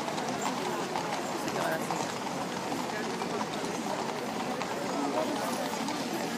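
Horses' hooves clip-clop outside Buckingham Palace in London, a steady busy patter of hoofbeats mixed with crowd noise and nearby voices throughout.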